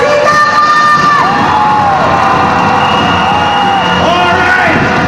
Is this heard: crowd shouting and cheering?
yes